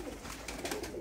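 Pigeons of a golden blood line coo softly and repeatedly in their loft, several low murmuring calls overlapping in a close, steady stream.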